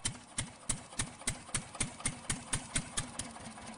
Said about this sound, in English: Okay, so we're going to go ahead and start our tractor.